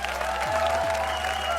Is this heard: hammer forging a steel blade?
no